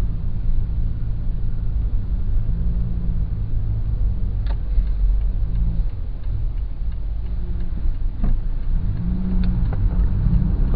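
Car engine climbing a mountain road behind a slow truck drones low and steady, with a faint whir and occasional ticking as it accelerates, heard continuously from inside.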